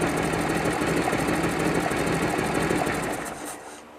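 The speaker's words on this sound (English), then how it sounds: "Now don't get impatient, start revving your engine up." Harley-Davidson motorcycle engine running steadily at raised revs during an oil flush, a loud continuous mechanical drone with rapid ticking that holds evenly, then eases off near the end.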